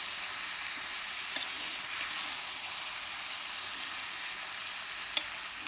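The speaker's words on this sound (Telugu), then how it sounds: "ఇప్పుడు మసాలాలు, ఉప్పు, కారం అంతా పట్టేట్టుగా మొత్తం కలుపుకోవాలన్నమాట" Vegetables fry in a pan with masala, salt and chili powder, giving a steady hissing sizzle with a couple of sharp stirring clicks against the pan.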